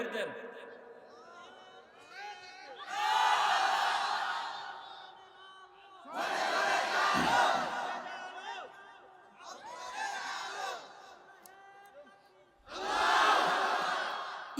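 A large crowd at an outdoor Bengali religious sermon gathering roars a takbir in unison, four loud chanted bursts spaced a few seconds apart, with quieter gaps of a lone voice between them.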